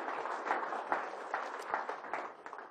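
One attendee claps at a Republican conference, slow steady hand claps roughly every half second over a murmuring room, fairly close but modest in volume.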